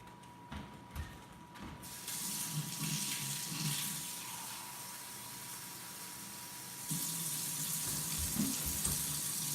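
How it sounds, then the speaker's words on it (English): Tap water runs steadily into a container in a kitchen while two cups are measured out, as a soft continuous splashing stream with a brief pause and a louder resumed flow near the end. "Next, add in 2 cups of water."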